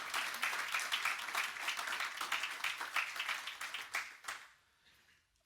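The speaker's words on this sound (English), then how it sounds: "feel free to clap." An audience claps after a conference presentation on Maersk's journey to net zero and the Laura Maersk vessel, a moderate round of scattered hand claps lasting about four seconds before it fades to quiet.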